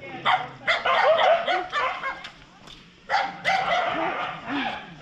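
Several dogs bark in quick, overlapping bursts, close and loud, with a short pause before another run of barking.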